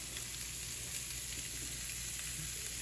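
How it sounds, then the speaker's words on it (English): Beef sizzles steadily in a hot pan over medium heat while a traditional beef stew is cooked, a constant fine crackling hiss that stays even throughout, fairly quiet and close, with no voices. "Got a nice little sizzle."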